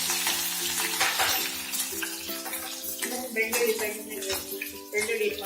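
Green chillies sizzling with cumin in a hot pan for flat bean usli, a steady close frying hiss with metallic clinks and scrapes of a utensil against the pan.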